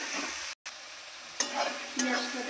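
Chopped onions sizzle in hot oil in a pan for a chicken curry, with steady frying hiss and a couple of scraping stirs, no talking.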